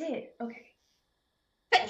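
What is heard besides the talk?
sneeze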